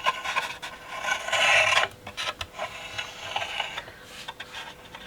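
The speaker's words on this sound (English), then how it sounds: "As I rotate this you'll see the ingenious clockwork mechanism." Winding the clockwork mechanism of a 1927 Gilbert gramophone produces close, dry ratcheting and rasping bursts with small clicks and scrapes, louder at first and then intermittent, with no voices.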